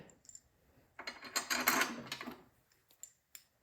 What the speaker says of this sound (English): Drop our bolts in.